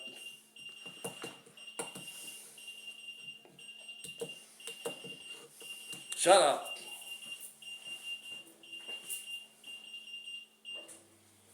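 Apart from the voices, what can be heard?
appliance beeping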